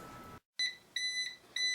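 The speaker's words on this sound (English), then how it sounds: "You can silence the alarm temporarily." A Viqua Pro UV water treatment system's control panel sounds its alarm, a series of sharp, high electronic beeps repeating at short intervals after a brief silence.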